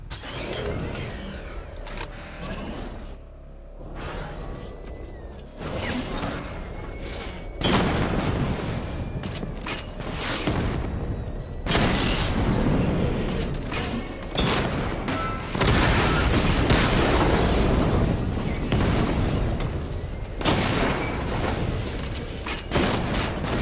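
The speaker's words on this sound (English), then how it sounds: "Charge up missile barrage to level 2 and destroy 4 active targets to complete diagnostic test." Batmobile missile barrages in Batman: Arkham Knight unleash rapid volleys of loud booming explosions and crackling impacts, bursting in waves with short lulls between them and no talk.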